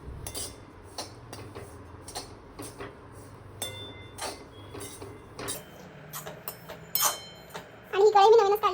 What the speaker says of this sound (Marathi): हा रवा आता मी कढईत टाकला आहे आणि आता याला मस्त भाजून घेते खरपूस